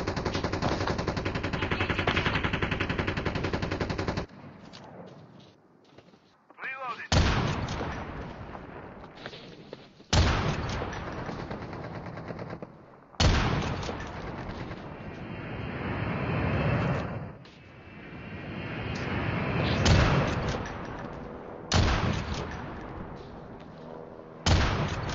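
Call of Duty battle royale combat: dense bursts of automatic gunfire and heavy blasts, loud and close, broken by a few short quieter gaps.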